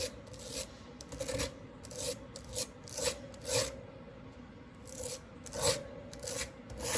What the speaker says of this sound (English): We're just scraping it along here, trying to get it all in those little cracks and crevices.